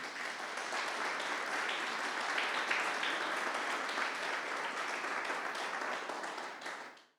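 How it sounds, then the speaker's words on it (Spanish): A church congregation bursts into sustained, even applause that fills the room for several seconds, then fades out at the end, with no talking over it. "Denle un aplauso al Señor."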